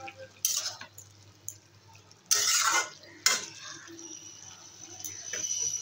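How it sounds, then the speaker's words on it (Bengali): Metal spatula scraping and clanking against a pan as pieces of fish are turned, a few sharp bursts of utensil contact separated by quieter stretches, close and moderately loud over a faint steady hum. "নেড়ে দেবো।"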